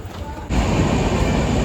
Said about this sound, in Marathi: चला ट्रेन आली आहे